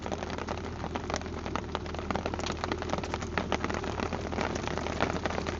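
Heavy rain pounds steadily outdoors during a bass fishing tournament on the Clarence River, a dense, constant hiss of drops with sharper patters throughout and no talk.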